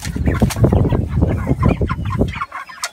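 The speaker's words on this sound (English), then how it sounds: "So it's the day before graduation for our meat chickens" A flock of five-week-old meat chickens clucking and chattering close by, busy overlapping calls with a few sharper squawks.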